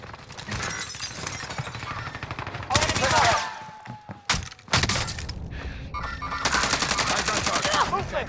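Rapid automatic gunfire and crackling shots in a video game shootout, loud bursts filling most of the stretch with a short lull in the middle and glassy breaking sounds mixed in.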